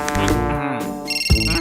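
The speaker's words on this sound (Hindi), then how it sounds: "तू निकोला का फोन लगा।" A cartoon phone rings as a call is placed, a short electronic ringtone with a steady high warbling tone, mixed over a busy, music-like background.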